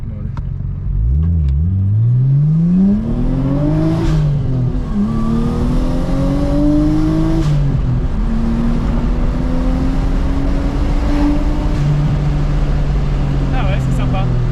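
A Nissan Skyline R34 with an RB25 engine revs up repeatedly through rising and falling sweeps, loud and close, with the hiss of a dump valve between pulls while people talk over it.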